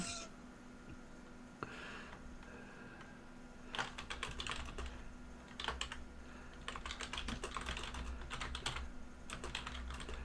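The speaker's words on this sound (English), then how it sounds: "Oh, God, I hear typing." Rapid bursts of typing on a computer keyboard, close and crisp, in clustered runs with brief pauses, over a faint steady hum; a cat meows.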